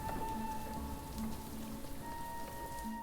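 Rain falling in the video game Little Goody Two Shoes, a soft, steady patter of drops on surfaces, faint and continuous, with thin tonal game music sounding underneath.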